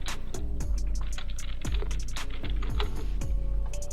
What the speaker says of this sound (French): je vais taper restaurant